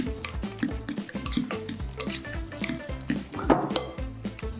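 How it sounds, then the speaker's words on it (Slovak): A spoon stirs a healthy spread mixture in a bowl, giving a steady run of quick scraping clinks and soft taps against the dish, close and continuous. "Premiešame."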